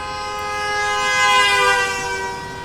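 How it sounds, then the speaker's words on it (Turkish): A single sustained car horn blast with a rich tonal buzz, swelling and fading over a couple of seconds, loud and fairly near. "Yavaş yavaş basma kornaya."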